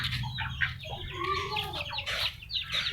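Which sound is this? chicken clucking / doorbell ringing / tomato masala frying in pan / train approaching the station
chicken clucking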